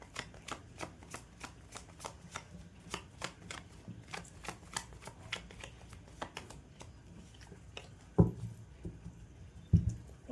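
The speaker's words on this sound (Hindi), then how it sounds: "कार्ड शफल होना बहुत ज़रूरी है।" Tarot cards shuffled by hand, a quick run of crisp, close riffling flicks in a steady rhythm, ending in a couple of louder taps as the deck is squared, with no talking.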